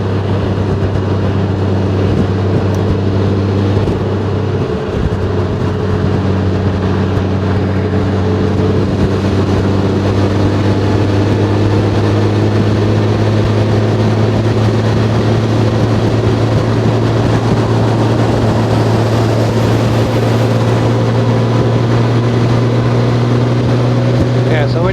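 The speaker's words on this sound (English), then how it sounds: "Bike is going up hills, it'll kind of feel like it's lugging a little bit." A 2021 Honda Gold Wing DCT motorcycle lugging uphill, its engine a steady low droning hum with a deep constant tone and heavy wind rush, continuous and close throughout.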